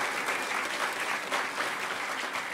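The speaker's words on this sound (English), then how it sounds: "Could we get a huge round of applause for all of the vendors who were on the second floor this year?" A large conference crowd at a hacker convention's closing ceremony applauding the vendors, a dense, even wash of clapping from many hands, sustained and fairly loud with no talk over it.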